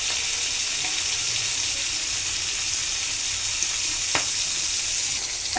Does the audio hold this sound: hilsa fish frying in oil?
yes